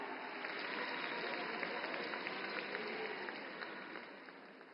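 A large crowd applauds to welcome the chief minister at a public event in Panipat, Haryana, a steady, fairly distant wash of clapping that holds for several seconds without breaks.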